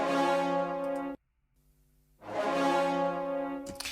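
Orchestral French horns from sampled brass patches play sustained ensemble chords, each held about a second, breaking into a short near-silence with a faint low tone before a new swell, full and smooth.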